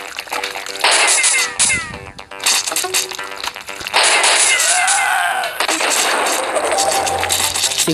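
Bursts of video game gunfire and blasts come in two loud stretches, with electronic effects and a quieter gap between them.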